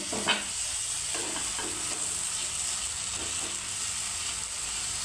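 Softened tomatoes sizzling and frying in a pan while being stirred for a dried prawn tomato curry, a steady hiss with a few soft scrapes of the spoon and no voices.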